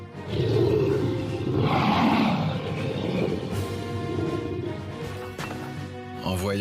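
A monstrous red bear lets out a long, loud, rumbling roar in the goblin-reincarnation anime, filling the first seconds and then trailing off beneath swelling dramatic music.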